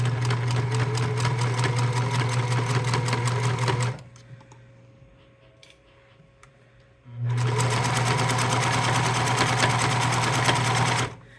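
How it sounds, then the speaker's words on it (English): A sewing machine stitching along a fabric edge for a neck rice warmer runs in a fast steady whir, stops for about three seconds of near quiet, then starts again and runs steadily to the end. "I'm gonna stitch along this line now. Along this long edge, stop when I see a pin."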